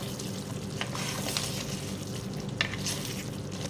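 Mutton karahi spices, salt and black pepper, being stirred into the meat in a hot pan, a continuous moderate sizzle with a few soft scraping stirs, close by and without speech.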